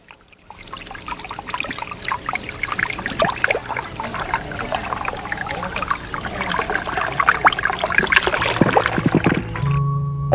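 Water pours and trickles steadily over stones in a musical stone water feature in Galipán, Venezuela, a continuous close splashing flow that grows slightly busier toward the end.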